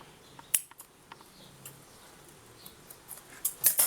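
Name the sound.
scissors cutting fabric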